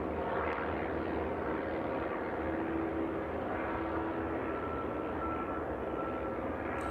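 A small Piper propeller plane drones steadily as it departs East Midlands Airport in the evening, a distant, even hum with no voices.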